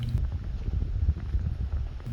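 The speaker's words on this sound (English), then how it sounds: "All right, so that's the stock exhaust." A motorcycle on its stock exhaust idles steadily, a low rumbling thrum with uneven pulses, close and fairly loud, with wind buffeting the microphone.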